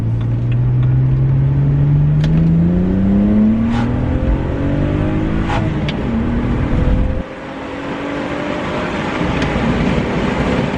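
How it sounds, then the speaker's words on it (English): A BMW 130i engine revs hard in second gear, its pitch climbing steadily under acceleration, then easing off briefly before pulling again; loud and close, no talking. "Found some nice roads now, so let's put our foot down a bit."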